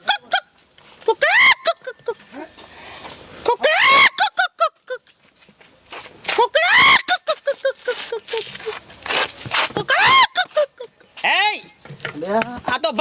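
A person's voice imitates a rooster crow several times, with rising and falling harmonic whoops between laughter and shouting.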